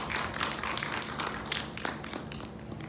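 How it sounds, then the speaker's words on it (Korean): Applause of encouragement from a high school church worship congregation, a steady, fairly quiet patter of many hands clapping together throughout, with no voices over it. "친구들에게 격려의 박수"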